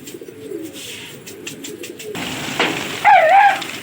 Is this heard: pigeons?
yes